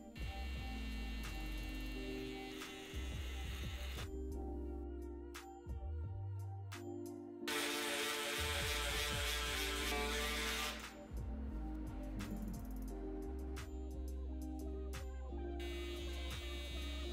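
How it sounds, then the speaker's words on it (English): Zero-gapped hair trimmers buzz through a shadow fade taper at a barber's chair. The motor drone is steady and close, with tonal hum that shifts in pitch as the blade meets hair, and there is no talk. "my trimmers are zero gapped as well"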